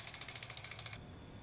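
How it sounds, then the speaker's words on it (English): A jackhammer pounds a stake for a 30 by 30 foot pole tent, loud rapid regular blows for about a second, then stopping abruptly, leaving low background rumble. "It takes 2 people to use a jackhammer."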